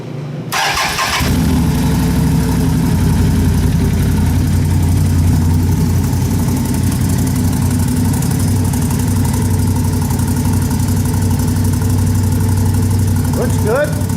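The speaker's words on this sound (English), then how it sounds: "So let's fire this thing up, see what it sounds like." A Can-Am 570 XMR side-by-side fitted with an HMF Titan QS exhaust cranks and catches, then settles into a steady, loud, throaty idle that drones on nearby for over twelve seconds.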